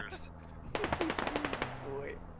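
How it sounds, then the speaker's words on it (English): A rapid burst of automatic gunfire rings out in the military shooter game Squad, about a dozen sharp shots in quick succession, fairly distant and quiet beneath faint voices. "Flicker taking some shots."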